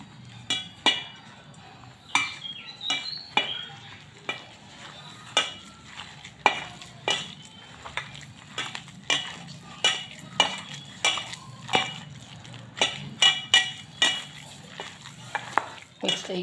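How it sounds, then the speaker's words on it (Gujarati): Batter of green chickpea leaves, crushed chillies and a splash of water being mixed by hand in a bowl, making a steady run of close, sharp clinks and wet slaps with no talking. "હાથથી મિક્સ કરી લઈશ."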